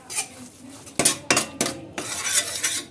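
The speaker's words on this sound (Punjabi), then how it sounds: "ਹੁਣ ਇਹਨੂੰ ਆਪਾਂ ਚੰਗੀ ਤਰ੍ਹਾਂ ਭੁੰਨ ਲੈਣੇ ਆ" Gram flour (besan) being roasted in a pan for a date sweet, with a spoon scraping and clattering against the metal in a few sharp strokes and steady stirring, close and fairly loud, with no talk.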